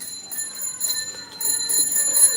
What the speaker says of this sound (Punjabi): ਕਿਉਂ ਘੰਟੀ ਵੱਧ ਵਜਾਉਂਦਾ